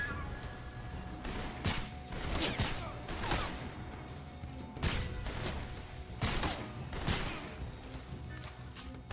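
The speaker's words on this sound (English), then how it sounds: "I'm shooting." Gunfire in the video game MGS Delta: repeated sharp shots and bursts in irregular clusters over a steady busy game soundscape, moderately loud throughout.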